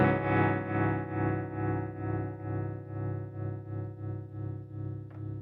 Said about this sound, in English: the first tremolo type is just like it's supposed to be a traditional tremolo